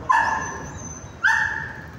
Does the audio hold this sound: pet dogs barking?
yes